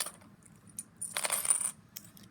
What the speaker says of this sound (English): I have some unmarked coins that I'm going to put out now